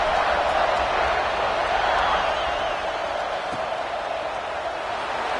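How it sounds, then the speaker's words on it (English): Steady, dense roar of a large football stadium crowd buzzing right after a score, a continuous wash of many voices at even loudness with no single speaker standing out. "this crowd is buzzing after that last score"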